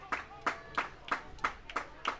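Scattered rhythmic clapping from a baseball crowd cheering pitcher Rosado, about seven steady claps at a moderate distance, fairly faint with no talk over it.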